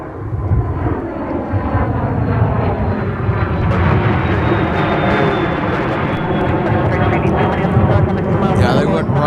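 A Sun Country airliner departing Minneapolis–St. Paul roars loudly overhead on its climb, a powerful sustained jet rumble with a sweeping whine, heard at close range while people talk.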